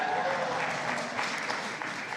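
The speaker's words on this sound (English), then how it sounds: "You can applaud that if you'd like." An audience applauds at a young leaders forum during a U.S.-Africa summit, steady dense clapping filling the room at moderate loudness without a break.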